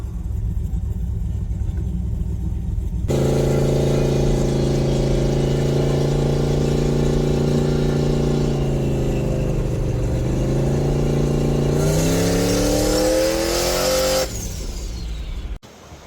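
A turbocharged LS V8 car engine on a second gear pull, starting at a steady idle rumble, then a loud sustained roar that climbs in pitch before easing off near the end.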